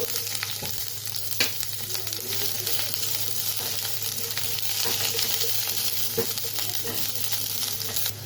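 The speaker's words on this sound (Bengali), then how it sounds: "তো দিয়ে দিব পেঁয়াজ।" Onions sizzling as they fry in a pan, a steady close crackle and hiss broken by a few stirring knocks, with no talk over it.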